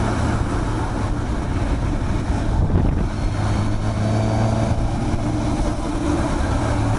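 Steady engine drone and wind rush from a moving Suzuki GSX-S750 motorcycle, a continuous, close hum with faint tonal whine throughout.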